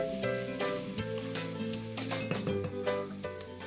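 Onions sizzling in a pan on medium-high heat for vegetable soup, a steady close frying hiss with clinking of a utensil stirring against the pan, no voice.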